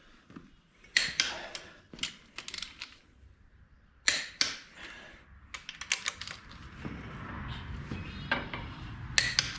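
Torque wrench tightening cylinder head bolts on an LS9 V8 engine, producing a series of sharp, close metallic clicks and ratcheting in uneven bursts, with no one talking.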